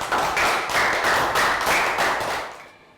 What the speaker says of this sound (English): Round of applause for Lakaw